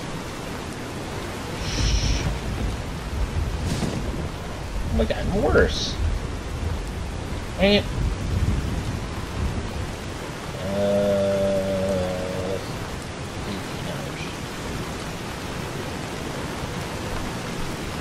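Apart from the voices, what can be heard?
rain and thunder in video game Fallout: New Vegas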